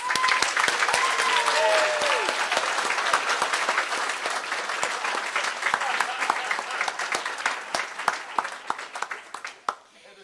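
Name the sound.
applause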